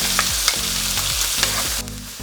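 Onions, ginger, garlic and green chillies fry in hot oil for a dosa masala filling, a loud continuous sizzle with repeated stirring scrapes, close up and free of talk.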